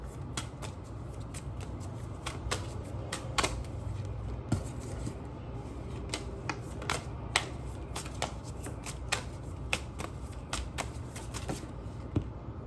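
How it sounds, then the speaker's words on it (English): Tarot cards being shuffled during a reading, a steady stream of soft riffling flicks and crisp card snaps repeating close by for the whole stretch, with no talk over it. "We'll keep shuffling."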